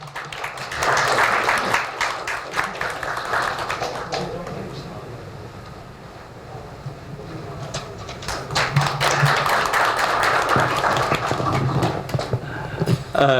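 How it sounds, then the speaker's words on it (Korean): Audience clapping at a colloquium of the Woodang education and culture foundation, two bursts of applause separated by a quieter lull in the middle, with some voices talking faintly beneath. "뜨거운 박수를 보내드리고 싶습니다."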